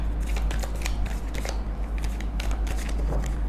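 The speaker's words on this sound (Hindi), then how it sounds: "Last shuffle." A tarot card deck is shuffled by hand, giving a soft, steady riffling crackle over a constant low hum, close and unbroken, with no one speaking.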